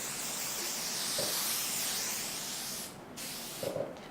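An atmosphere aerosol can, used as a fog-machine substitute, sprays in a long continuous hiss for about three seconds, then stops and gives a quick short burst, close and alone.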